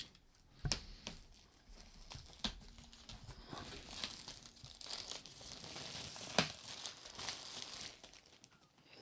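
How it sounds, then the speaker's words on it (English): Plastic wrap comes off an Overboss board game box, close crinkling and tearing with a few sharp crackles and rustles, fairly quiet. "Get the plastic off."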